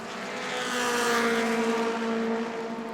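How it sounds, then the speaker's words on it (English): A Mod Mini race car engine at New Smyrna drones steadily at a distance, sounding rough, its pitch holding level and swelling slightly in volume before easing off. "That car doesn't sound too good."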